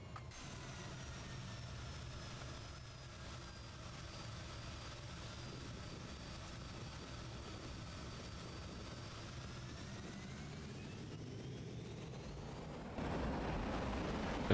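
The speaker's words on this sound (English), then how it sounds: "it makes a lovely old-fashioned pencil jet sound" A Fokker F28 jet in Microsoft Flight Simulator 2024 gives off a thin, whining old-style turbojet tone over a low rumble, steady and quiet, rising into a louder roar near the end.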